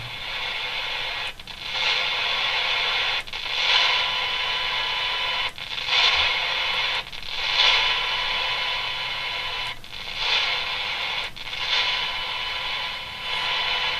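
Steady hiss of radio static with warbling tones that swell and drop in short bursts, the noise shifting abruptly every second or two as the dial moves on a Quansheng K5 radio with a Si4732 HF mod.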